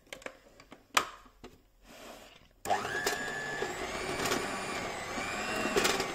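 A bread machine kneading dough, first a few quiet clicks and knocks, then a motor starting up into a steady whirring hum with rising whine and occasional thumps.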